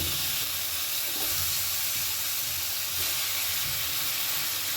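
Fried pointed gourd pieces in a hot pan give off a steady, loud sizzling hiss that carries on evenly throughout with no talking.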